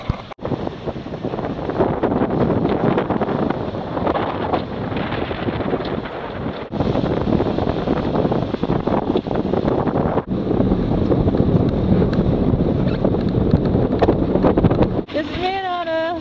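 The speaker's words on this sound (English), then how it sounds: "This is me and Anna, sitting in the cockpit, hiding from the waves." Strong wind roars across the microphone aboard a sailboat at sea, with waves rushing and crashing nearby, loud and constant, and brief tonal chirps at the very end.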